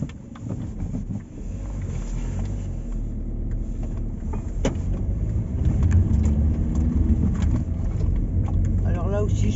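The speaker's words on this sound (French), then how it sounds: "je vais monter là-haut avec la voiture" A car climbs a small country road with a steady, rumbling engine and road noise mixed with wind buffeting the microphone. A voice briefly speaks over it.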